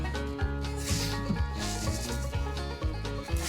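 Hand rivet tool being pumped to set a rivet on a Radisson 12-foot canoe, repeated squeaky rubbing and clicking strokes in a steady rhythm, close up.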